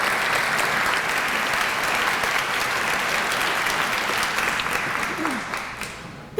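A room of guests at an alumni reunion breakfast gives a sustained round of applause, dense and loud, tapering off toward the end.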